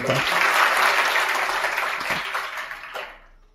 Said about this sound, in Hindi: स्टूडेंट्स आप तालियों से स्वागत करें